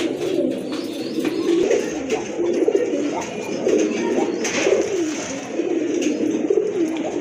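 A pair of large crested pigeons coo in low, repeated rolling phrases that rise and fall in a steady rhythm over a constant background hum.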